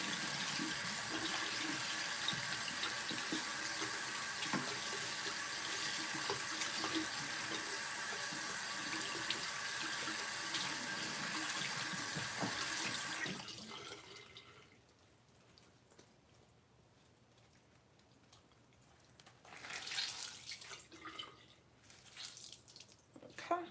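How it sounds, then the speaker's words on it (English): Tap water running steadily into a sink while someone rinses a face scrub off with cool water, then cutting off, followed by quieter splashing and dripping near the end. "I'm about to rinse this off with a little bit more cool water"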